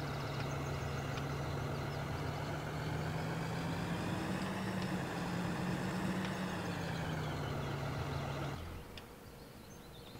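A tractor engine idles in the Farming Simulator 2013 video game, a steady low drone with a constant tonal hum that cuts off abruptly near the end.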